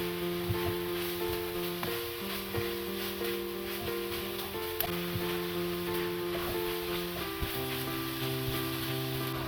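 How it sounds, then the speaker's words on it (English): Italian sausage frying in a pan with onion and garlic, a steady hiss of sizzling fat under occasional soft stirring scrapes, close and even, with a faint tonal hum in the background and no speech. "Stir until sausage is half cooked."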